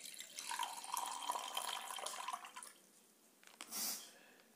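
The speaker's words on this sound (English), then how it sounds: "Now first we will pour some lukewarm water in a glass container." Lukewarm water poured into a glass container, a soft trickling stream for a couple of seconds, followed by a brief splashy burst near the end; quiet and close.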